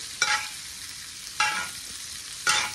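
A steak sizzles in a pan while being basted with butter, garlic and thyme, a steady frying hiss punctuated by three bright spattering bursts as spoonfuls of hot butter hit the meat.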